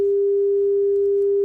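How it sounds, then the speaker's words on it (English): A pure synthesized sine wave tone generated with Python sounds as one unbroken, steady pitch, loud and constant from start to finish with nothing else audible. "of course, we have our sine wave right here."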